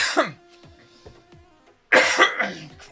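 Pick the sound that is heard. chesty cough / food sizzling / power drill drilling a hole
chesty cough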